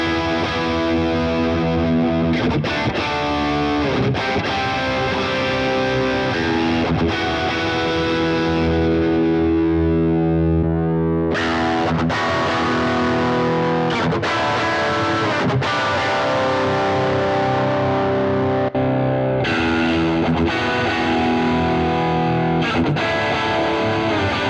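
A Boss Waza Craft guitar amplifier set to a heavily distorted tone, captured through a recording line, with continuous driven riffs and chords over a long stretch, loud and unaccompanied by speech.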